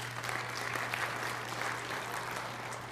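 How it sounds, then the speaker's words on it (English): An audience applauds steadily at a Cook County civic event, a dense, even wash of many hands clapping at fairly constant loudness throughout, with a low steady hum beneath. "Let's give them a round of applause, please."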